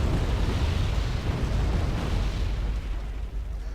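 Artillery fire and explosions in the video game Wargame form a continuous, heavy, rumbling roar of overlapping blasts, loud and deep throughout, easing slightly toward the end.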